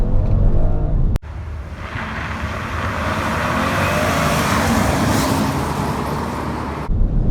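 A 2018 Toyota Camry V6 and a 2018 Mazda6 accelerate hard in a drag race, with wheel spin. Engines roar loudly and steadily, with a sharp cut at the start and a sustained, building drone that stops abruptly.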